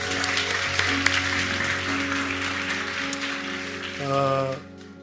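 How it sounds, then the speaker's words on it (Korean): Applause of thanks from a church congregation at a worship service, a sustained wash of clapping under a held musical tone and keyboard notes that fades out at the end. "앞에 감사의 박수 올려드리도록 하겠습니다"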